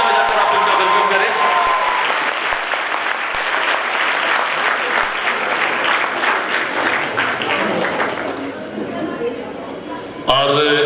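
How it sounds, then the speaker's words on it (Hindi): Loud, sustained applause fills a college hall during a welcome at a campus function, running about ten seconds with crowd murmur and voices underneath, tapering slightly before an abrupt change near the end. "एक बार जोरदार तालियां बजाकर आप उनका वेलकम करें।"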